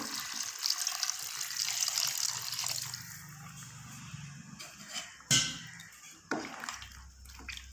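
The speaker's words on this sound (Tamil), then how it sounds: "குழம்புக்கு தேவையான அளவு தண்ணி சேர்த்துக்கலாம்." Water is poured from a tap or vessel into a pot of chicken gravy, a gushing splash for the first few seconds that fades, followed by a couple of brief clanks near the end.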